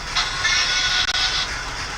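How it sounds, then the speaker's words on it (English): A model steam locomotive's whistle sounding as a sustained high, slightly wavering tone that cuts out for a split second and resumes, steady and fairly loud with no talk. "Let's have a long whistle on this one"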